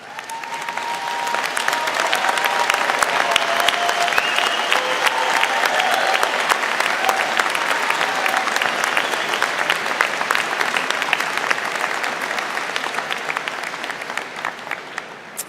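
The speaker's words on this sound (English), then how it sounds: "Would all of those students please stand for a round of applause?" A large crowd at a business school commencement ceremony applauds honored students in a long, steady round of dense clapping that fills the hall with no break.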